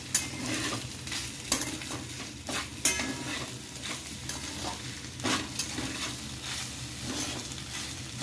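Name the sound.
stirring veg Schezwan fried rice in a pan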